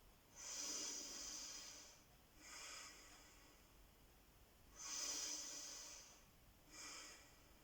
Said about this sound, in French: Alors on respire profondément.